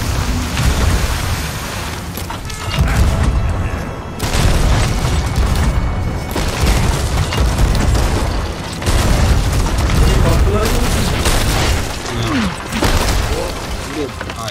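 Ship cannons firing in the pirate video game Sea of Thieves: loud, heavy booms one after another, each followed by a rumbling roar that fills the scene almost without a break.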